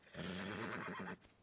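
A frightened horse in the Red Dead Redemption 2 game gives one fairly quiet, sustained whinny that lasts about a second and then stops abruptly, with no talking.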